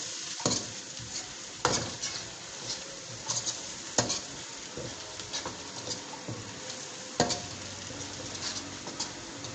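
Spices cooking in a pan with potato and cauliflower for dhaba-style aloo gobi, stirred with a spoon that scrapes and clinks at intervals over a steady soft sizzle, close and moderately quiet with no talking.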